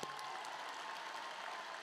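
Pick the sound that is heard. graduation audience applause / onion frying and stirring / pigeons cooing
graduation audience applause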